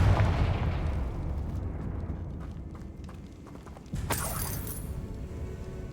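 A Confringo blasting spell in Hogwarts Legacy, heard as a booming explosion with a rumbling, crackling tail that fades, followed by a second sharp burst and lingering debris noise.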